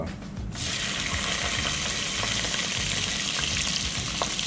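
Cashews fry in hot oil with a loud, continuous sizzle that sets in after a brief quiet start and holds steady throughout.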